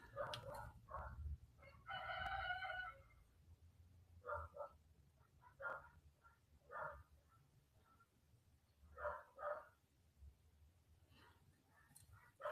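Roosters crow from a distance, one long cock-a-doodle-doo near the start followed by a run of shorter calls and clucks, with a dog barking faintly among them over a low background hum.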